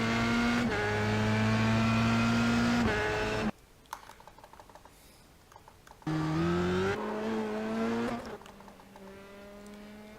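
A Formula 3 race car accelerates at Donington Park, its high-revving engine loud and close with rising pitch through gear changes, dropping away briefly before surging again.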